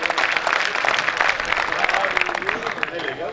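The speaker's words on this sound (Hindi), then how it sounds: "एक बार इन कवियों के सम्मान में जोरदार ताली बजा के स्वागत करें।" An audience at a kavi sammelan poetry gathering in Parbatsar claps loudly and steadily for the poets, a dense continuous wash of applause filling the whole stretch.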